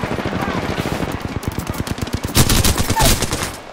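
Rapid automatic fire from the Alternator submachine gun in Apex Legends, a fast steady stream of close, loud shots in sustained bursts with little else around them.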